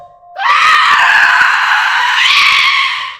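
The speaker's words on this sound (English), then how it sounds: "The witch with loud scream followed them." A witch's long, loud, piercing scream in a horror story sound effect, starting abruptly and holding steadily for about three seconds before fading.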